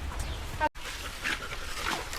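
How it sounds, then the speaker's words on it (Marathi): Dogs whimper and yip nearby in short, soft bursts, with a brief dropout partway through, and no clear talk over them. "चला दोन कुत्रे आली"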